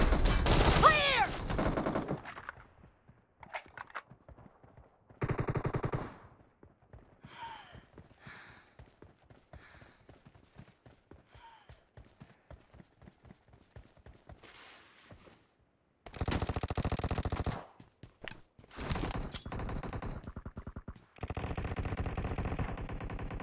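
Gunfire in the mobile battle royale game PUBG Mobile, with loud bursts of automatic fire broken by quieter stretches of rapid single shots and gaps. Bursts end the clip.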